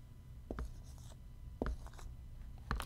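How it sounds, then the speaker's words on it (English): A number being written down by hand, with soft, close pen scratches in three short bursts spaced about a second apart against a quiet background. "I'm going to write a number down."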